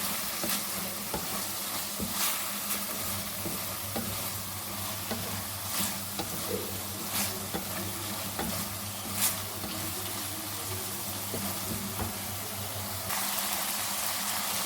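Chicken cooks in a pan with a spoonful of vinegar, giving a steady close sizzle broken by scraping stirs and light clinks, with a low hum beneath and no voices.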